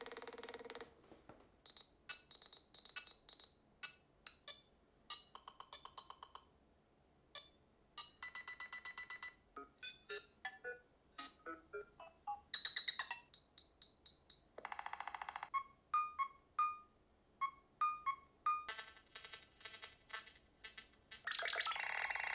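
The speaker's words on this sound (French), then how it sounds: "voici ce que ça donne les 10 sonneries disponibles dans le smartphone" A series of Nothing Phone (1) ringtones played one after another, each a short melodic or beeping pattern, clear and close, with brief pauses between them.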